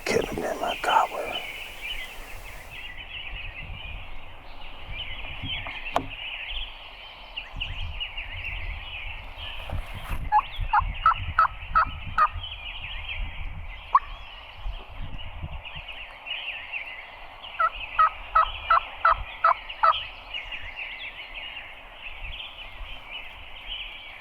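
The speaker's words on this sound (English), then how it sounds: "Man, that couldn't have been my gobbler." Wild turkey gobbler roosted nearby during a hunt, gobbling in two rattling bursts around 10–12 s and 18–20 s, moderately loud over outdoor ambience and faint rustling.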